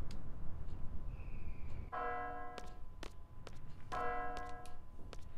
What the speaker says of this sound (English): That is an odd sounding bell.